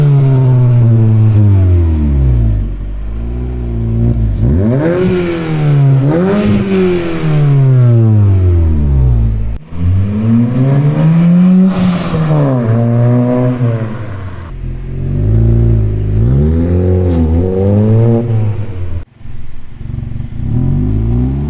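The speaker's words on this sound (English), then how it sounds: "Show you guys how it sounds, do some drive-bys, do some revs" A VW Polo 1.4's sports exhaust with the back box deleted revs up and down repeatedly, loud and close, with engine pitch climbing and falling as it pulls past in several drive-bys.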